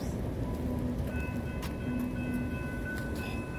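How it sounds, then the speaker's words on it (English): A train rolls by at a distance in Chesterton, Indiana, a steady low rumble with faint high metallic squeals drifting over it. "There's another train coming?"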